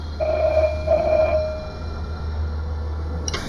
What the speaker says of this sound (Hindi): ये वापस बज रहा है। नहीं हर्ष, फोन मत उठाना।